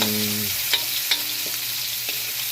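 Onion or garlic hits hot oil in a pan for a Filipino vegetable coconut-milk stew, giving a steady close sizzle with a few stirring knocks and no talk.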